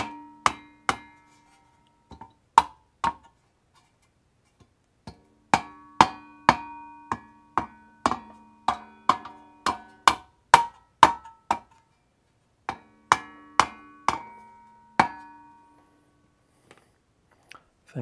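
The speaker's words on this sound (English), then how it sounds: "And I'm going to use a mallet to drive this on gently." A mallet taps a rear wheel bearing onto a Mazda Miata hub, giving sharp, ringing metallic knocks in uneven bursts, some quick runs of taps and some single strikes, with quiet gaps between.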